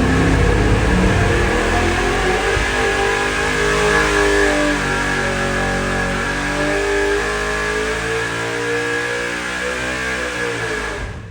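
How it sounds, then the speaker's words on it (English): A 540 cubic inch big-block Chevy engine on a dyno revs hard and loud, holding a steady roar that rises and falls slightly before easing off, with no talk over it. "This engine sounds wicked, as you could tell from the video, hopefully."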